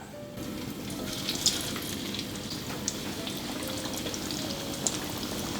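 French fries dropped into hot oil for deep-frying, giving a steady soft sizzle with light bubbling and a few faint clicks throughout, heard alone without speech.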